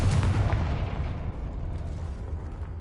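Confringo fire-blast spell from the video game Hogwarts Legacy: a loud, close explosive burst with a booming low rumble that decays into a sustained roaring wash, no voices.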